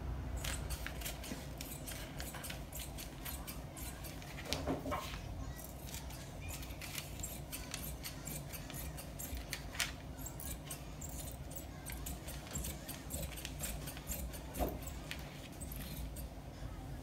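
Scissors cutting out fabric for a cowl neck top, faint repeated snipping and crisp slicing close by over a steady low background hiss, continuing evenly throughout.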